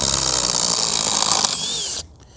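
Flex and DeWalt impact drills driving fasteners side by side, a loud, continuous whirring and buzzing grind that cuts off abruptly near the end.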